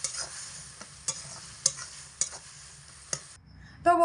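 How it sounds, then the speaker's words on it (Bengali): Potato filling being stirred in a pan over medium heat, a steady soft sizzle of frying broken by several sharp scrapes and knocks of the spoon against the pan, with no talk. "5 মিনিটের মাঝে একবার ঢাকা চাপা খুলে এরকম একটু নাড়াচাড়া করে দিতে হবে।"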